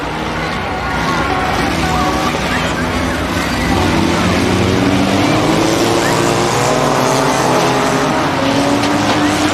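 Race cars at a May 2006 track event roar around the circuit, loud and continuous with rising and falling engine whine as they pass, under an announcer's voice.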